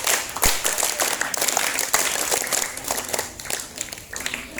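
A group of students at a school archery training session claps repeated five-clap patterns, the bursts ragged and poorly synchronized, with a few sharp individual claps standing out at close range.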